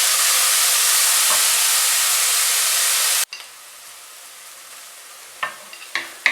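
Carrots and peas frying in a pan give a loud, steady sizzle for about three seconds, then it cuts to near quiet broken by a few sharp clinks of a utensil stirring.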